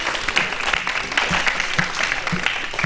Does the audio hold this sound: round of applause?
yes